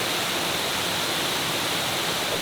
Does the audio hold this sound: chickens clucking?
no